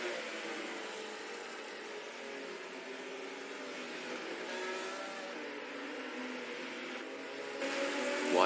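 Race car engine in a virtual racing game on a Mercedes Arena lap, a sustained droning roar that holds steady and swells slightly near the end, with no talk.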